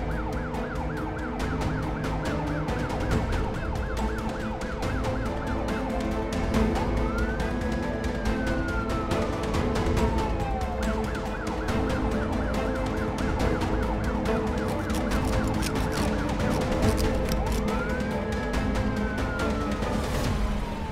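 A police car siren wails with rising and falling sweeps over a dense, busy background of street noise. It stays loud throughout and is heard in a dramatic scene.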